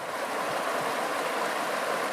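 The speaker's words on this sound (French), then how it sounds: "La rivière qui coule à côté" A river in the Monts d'Ardèche flows beside a cycle path through a forest of holm oaks and chestnut trees, a steady, soft, continuous rush of water with no voices.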